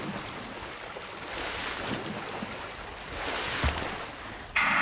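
Steady rushing water of a waterfall in the video game Zoo's Company, a broad continuous wash that swells midway, with a brighter hissing layer cutting in near the end.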